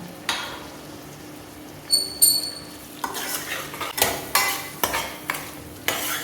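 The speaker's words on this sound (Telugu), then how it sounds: "ఇలా మధ్య మధ్యలో కలుపుకుంటూ ఉడికించుకోవాలి టమాటాలని" Chopped tomatoes and green chillies cook in a pan, a spatula stirring and scraping through them in repeated clinking strokes over a steady soft sizzle, close and moderately loud.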